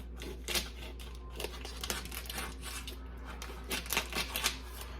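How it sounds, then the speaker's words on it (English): A knife cutting smoked sausage into chunks on a board, a quick series of crisp taps and chops in irregular bursts, close and fairly loud, with no talking. "I'm just going to cut this up in chunks"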